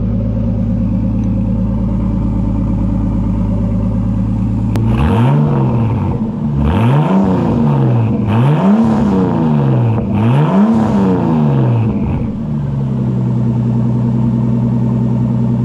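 A Nissan RB25DET engine with a Flowmaster high-flow muffler and ISR elbow idles with a deep rumble, then revs sharply four times, loud and close, before settling back to a throaty idle.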